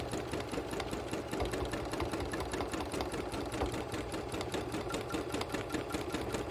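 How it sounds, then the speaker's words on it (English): A sewing machine runs continuously during free motion quilting, its rapid even needle rhythm close and steady throughout with no pauses. "So I'm going to give it a couple stitches in place just to lock that stitch."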